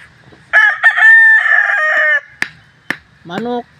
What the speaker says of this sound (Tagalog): Mao na among mga manok dire oh, nag-away pa mga lods oh.